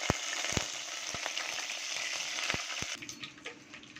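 Curry leaves hit hot peanut oil already holding mustard, cumin and fenugreek seeds for a garlic tamarind curry, giving a bright, dense crackling sizzle with a few sharp pops, easing off after three seconds; no talking.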